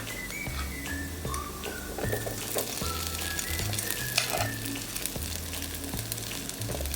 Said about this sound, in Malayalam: ഇനി നമുക്ക് ആദ്യം ഒരു കൂർക്ക വേവിച്ചത് ഇതിനകത്തോട്ട് ഇട്ട് കൊടുക്കാം.